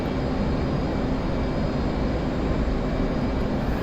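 Aircraft engine in the DCS flight simulator running out of fuel before shutting down, a steady broadband roar holding at a constant loud level throughout with no talking over it.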